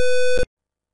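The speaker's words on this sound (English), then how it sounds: "We can observe the buzzer has been started" A single loud electronic buzzer tone from an automatic door lock signalling a wrong password, harsh and steady, lasting under half a second before cutting off into silence.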